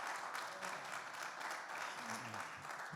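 A church congregation applauds together in a steady, continuous wash of clapping, fairly faint overall, with a few low murmurs of voices underneath.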